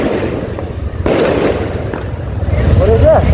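Rocket fireworks bursting during the Tihar festival in Dharan bazaar: a sharp loud crack, then crackling pops and whistling sparks, with people talking in the background.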